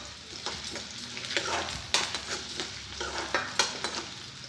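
Chopped onions, green chilies, mustard seeds, carrots and peas sizzle in hot oil for semolina upma, a steady frying hiss broken by several sharp spoon scrapes and stirs against the pan.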